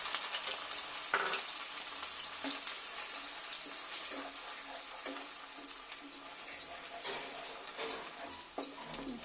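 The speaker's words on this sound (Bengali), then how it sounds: "একটু ভেজে নেব।" Onion paste sizzles and spits softly in a hot pan, a quiet steady frying hiss with occasional small pops and stirring scrapes.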